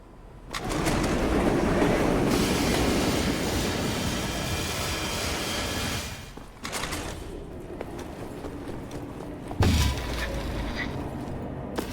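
Train from the video game Wolfenstein: The New Order rumbling along its rails, a loud, steady rolling roar with clanks and a brief break midway, then a sharp heavy thump near the end.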